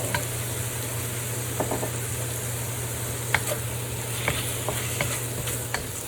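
Beef stir-fries in a wok with soy sauce, giving a steady, quiet sizzle with scattered sharp scrapes and clicks as it is stirred, and no talking.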